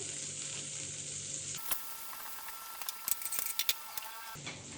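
Salted butter melting in a pan on the stove, a steady bright sizzle running throughout with a few sharper crackles and pops near the end, no voices.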